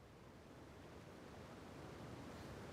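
Steady watery ambience of the water area in the video game Paleo, a soft continuous wash like surf or wind, faint and unchanging, with no voices.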